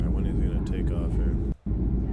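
An Airbus A340-300 in Microsoft Flight Simulator rolls for takeoff with a loud, steady jet engine roar that cuts out for a split second, while a voice talks over it.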